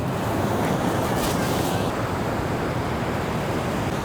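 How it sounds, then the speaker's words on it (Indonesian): Sea waves roll onto a beach in Japan on a summer afternoon, the water murky. A constant broad wash of surf mixes with wind buffeting the microphone, loud and unbroken throughout. "Ini lautnya."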